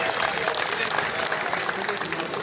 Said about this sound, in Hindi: आप सब जोरदार तालियां बजाकर एक दफा इनका स्वागत करिए